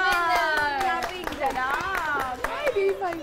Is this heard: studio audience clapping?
yes